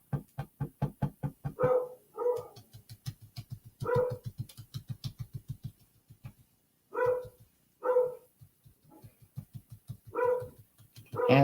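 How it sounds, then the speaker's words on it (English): A dog barks repeatedly and close by, in bursts of rapid, rhythmic barks broken by short pauses, with no one talking. "she's just barking for the sake of barking at this point"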